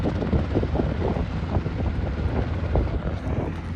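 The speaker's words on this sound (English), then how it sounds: "So you can see that helicopter." A helicopter near an airport runway and taxiing area gives off a loud, continuous rumbling drone, steady throughout and mixed with wind buffeting.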